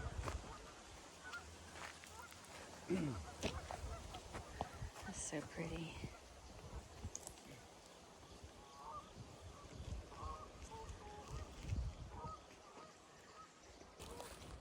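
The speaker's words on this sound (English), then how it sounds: "Listen to the geese." Geese honk repeatedly in the distance outdoors at Roaring Creek Tract in Weiser State Forest, near reservoirs, while a person speaks nearby, with rustling and wind around them.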